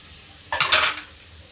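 Boiled peas tip into a frying capsicum pakora mixture in a pan, giving a short sizzling hiss and stir that swells, then fades back to quiet.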